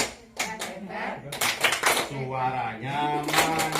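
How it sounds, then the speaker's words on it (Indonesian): A group performs a rhythmic clapping chant at a family welfare community meeting, voices chanting together with clustered claps in a counted pattern and someone speaking in between. "1, 2, 3. Tepuk hebat."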